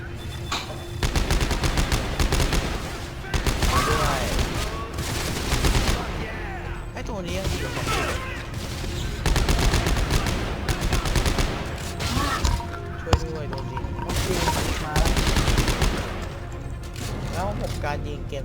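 Gunfire in Dead Space 3, with bursts of rapid shots repeating in bouts under a continuous game background, loud and near.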